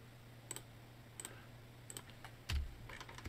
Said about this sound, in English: So I hit the C key to cut through the surface entirely.